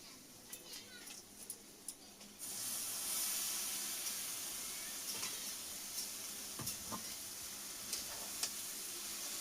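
Taro stolons hit hot fried masala in a pan for a Bengali prawn curry, setting off a sudden loud, broad sizzle that holds steady with occasional clicks and stirring knocks, after quieter pan sounds at the start.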